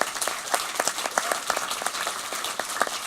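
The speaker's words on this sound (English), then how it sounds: "I'd love to thank Luke for the biggest round of applause" Applause from a convention panel audience, a steady dense patter of many hands clapping at moderate distance throughout, with no talking over it.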